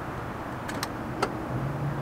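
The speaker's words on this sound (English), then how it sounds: "Whenever you lock the car, you can hear all these really solid thuds and everything." Solid mechanical thuds from the electrohydraulic central locking of a Mercedes R129 SL500 with AMG Sport Package, a few short knocks near one another followed by a faint low whirr, heard close up with no talking.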